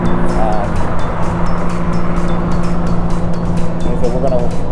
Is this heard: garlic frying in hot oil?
no